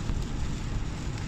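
Steady, dense rain falling outdoors on a Thai farm, a continuous broadband hiss with no pauses, fairly loud and close, with no voices.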